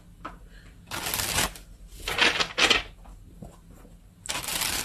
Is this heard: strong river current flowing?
no